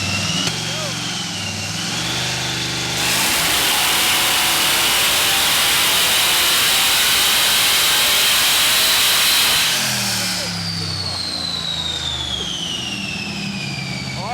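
A supercharged LSX-powered Chevrolet C10 roars at full throttle on a dyno, rising from an idling rumble into a loud, sustained, hissing wail for several seconds before dropping back to a lower drone with a whining whistle.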